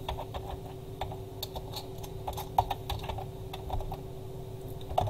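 Soft, irregular tapping of keys as text is typed on a computer keyboard, scattered clicks over a low steady hum, no one talking.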